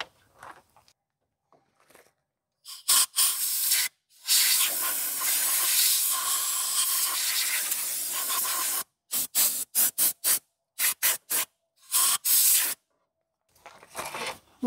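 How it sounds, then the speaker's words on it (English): Compressed air hissing onto the fuel lines of a 1989 Chevy S10 truck, a long steady blast followed by a string of short, sharp puffs separated by silence. "We get some compressed air."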